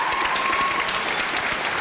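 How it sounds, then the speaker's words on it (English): Dense, loud applause from an audience at a graduation event, continuous close clapping with no pauses throughout. "How about one more applause for all of these young ladies?"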